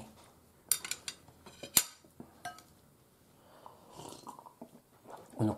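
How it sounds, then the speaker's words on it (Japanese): Tableware clinking and clicking during a meal of crab-stick tenshin-don, a few sharp clicks of utensil against dish scattered among quiet chewing sounds, close and intermittent. "このカチッカチッっていう食器の音って嫌ですよね。"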